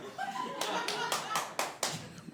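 A stand-up comedy show audience gives about five slow, spaced-out claps, faint and brief, with a murmur of voices around them.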